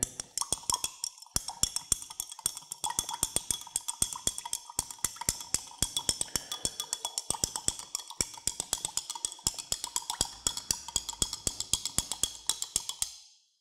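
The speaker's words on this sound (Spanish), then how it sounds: "Y removemos bien." A spoon stirs a salt-and-water solution in a glass, giving a rapid, steady series of bright clinks and taps that run evenly for over ten seconds, close and moderately loud.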